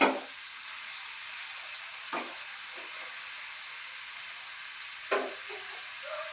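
Onion pieces and green chillies drop into hot oil, a constant close sizzle with two or three sharper splashes of frying as ingredients are added.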